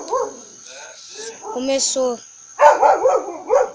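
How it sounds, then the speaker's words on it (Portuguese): Grandmother's dogs bark in short bursts of several yaps and yips, close and loud, with a person speaking briefly over them. "Cachorros da minha avó."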